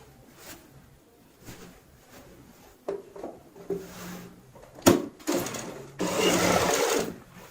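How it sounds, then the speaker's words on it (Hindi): A sewing machine runs a straight seam along a ready-made gown being altered, starting in short stop-and-go bursts, then running steadily and loudly near the end, with some handling knocks of cloth and table between runs. "यहाँ पे सीधी सिलाई लगा लेंगे ऐसे"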